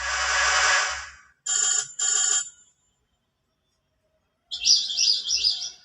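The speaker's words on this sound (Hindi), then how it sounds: "चिड़िया की चहचहाने की आवाज" A Yamaha PSR-E463 keyboard plays its bird chirping sound effect: a long trilling burst, two short chirp phrases, a pause, then another warbling run of synthetic tweets, loud and alone.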